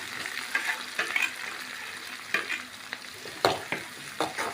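Onion, green and dried red chillies and curry leaves sauté in a hot pan: a steady close sizzle broken by irregular spatula scrapes and taps against the metal, with no voices.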